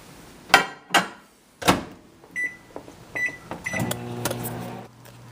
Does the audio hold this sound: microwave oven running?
yes